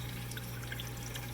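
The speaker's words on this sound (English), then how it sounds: "you can see that a lot of the water is actually flowing out the end" Water trickles steadily down a vivarium drip wall, a soft continuous close-up flow with faint dripping, heard alone without talk.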